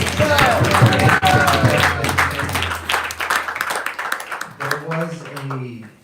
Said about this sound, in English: Big round of applause for Chief Gopi, please